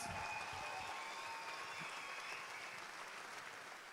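Crowd applause at a festival opening ceremony, a steady, fairly faint wash of many hands clapping that carries evenly for several seconds.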